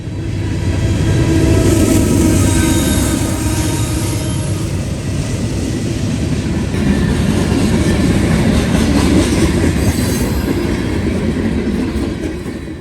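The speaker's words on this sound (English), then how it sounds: "a Dash 9 duo pulls an ET-44AC dead in tow on train 171 heading westbound" A westbound freight train passes close by on a cold day, led by two Dash 9 locomotives with an ET-44AC hauled dead in tow, a loud, steady rumble with rail clatter lasting throughout.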